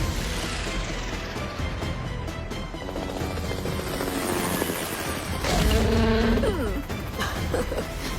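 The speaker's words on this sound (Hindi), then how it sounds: "हेलीकॉप्टर नीचे जा रहा है, संभाल के रहे।" Cartoon sound effect of a helicopter going down in an animated kids' action episode: a dense, steady mechanical whir and rumble that swells near the end, as if bracing for a crash, with no voices.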